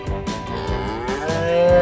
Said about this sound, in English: Now there are lots of farm animals in the way.